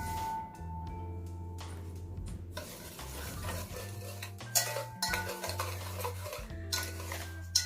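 Spoon stirring yeast, salt, vanillin and sugar together in a bowl at home, with repeated clinks and scrapes against the dish in an uneven rhythm, close and moderately loud over steady low background hum.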